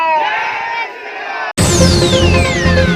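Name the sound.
supporters chanting Jai Shri Ram slogan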